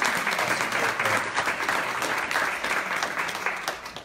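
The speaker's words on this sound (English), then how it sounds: "Another round of applause." An audience at a poetry event claps loudly and steadily for several seconds, a dense, close wash of applause with no break.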